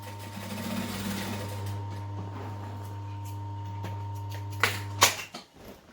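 A sewing machine stitches a line on fabric with a soft, steady whirr under a constant low electrical hum, finishing with a couple of sharp clicks and knocks near the end.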